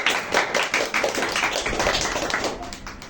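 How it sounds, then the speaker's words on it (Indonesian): An audience at a student talk show claps for a stand-up comedy act, a dense, steady patter of many hands that fades slightly toward the end. "Tepuk tangan dulu dong."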